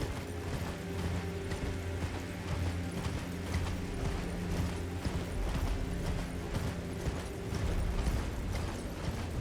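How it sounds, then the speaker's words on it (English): Horse hooves thudding in a steady, continuous clip-clop while riding in Elden Ring, loud and close with a mechanical rattle beneath and no talking. "I'm role-playing riding my horse."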